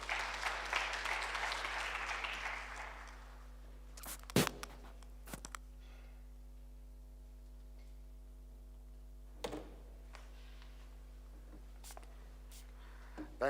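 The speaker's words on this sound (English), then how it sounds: "a round of applause for him" An audience at an International Youth Day celebration applauds the chief guest, a burst of clapping that fades within a few seconds into a quiet room with scattered clicks and knocks.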